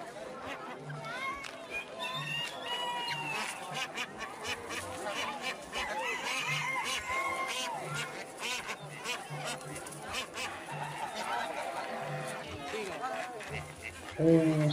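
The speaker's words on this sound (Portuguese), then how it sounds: "São diversas variedades de patos," Ducks of several varieties quack repeatedly in a lively flock at a bird fair in Campodarsego, Italy, overlapping calls and honks with chatter, while a person talks faintly in the background.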